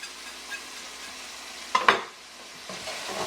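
A spoon stirs mussels in a spicy white wine tomato sauce with chili and parsley over low heat, giving a quiet simmer and a short scraping burst in the middle before it settles back to a soft bubble.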